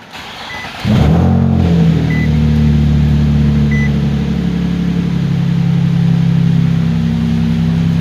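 A car engine, on an Infiniti or Nissan with a newly replaced gas pedal, catches with a short burst and then holds a loud, steady idle-like hum close by, with only slight rises in pitch as the pedal is pressed.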